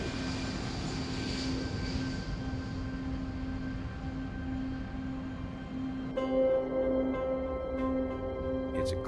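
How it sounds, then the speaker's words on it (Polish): An airplane takes off at night, a steady droning jet engine roar with a sustained tonal whine, moderately loud and even, joined near the end by a brighter layered tone that could be music. "41 minut po północy samolot wystartował."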